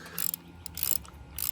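A socket ratchet tightens a plug in piping on a Triumph TR7 car, giving three short, close bursts of rapid metallic clicking separated by brief pauses.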